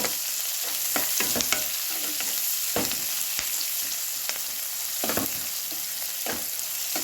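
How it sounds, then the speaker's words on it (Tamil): Spices and turmeric sauté in a pan for a pepper chicken gravy, giving a continuous close sizzle with repeated scraping strokes of a spoon stirring. "நல்லா கோல்டன் கலர் வர அளவுக்கு ஃப்ரை பண்ணிக்கோங்க."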